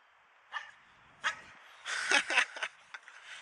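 Dogs bark in a handful of sharp, short yips and woofs at close range outdoors at the start of a working day, a few isolated barks followed by a quick cluster, with no talk over them.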